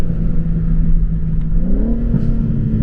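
BMW M3 Competition engine revving from idle, a deep, steady exhaust drone that rises smoothly in pitch midway, with a faint brief pop near the end; close and loud, no talking.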